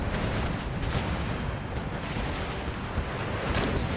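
Musket line volleys and cannon fire roar through an Empire: Total War battle, a dense, continuous rumble of overlapping gunfire and booms that stays loud throughout.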